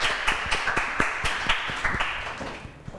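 Audience applause greeting contestant number six, a steady run of sharp, close handclaps with overlapping claps through most of the stretch, thinning slightly at the end.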